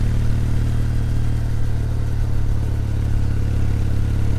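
An air-cooled Kawasaki W800 motorcycle engine idles at low revs nearby, a steady, rapid thumping rumble that stays even throughout.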